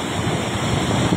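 Sea waves pounding a shoreline where a family's house was damaged, a steady, dense, loud roar of surf mixed with wind buffeting the microphone, no voices.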